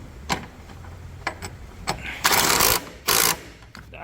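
Tightening a car battery hold-down clamp with a ratchet during battery replacement: several sharp metallic clicks, then two bursts of fast ratcheting, close and fairly loud, with no voices.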